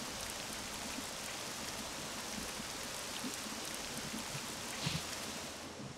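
Steady, soft rain falls in the video game Rollercoaster Tycoon 3, an even hiss of drops that holds evenly throughout with no talk.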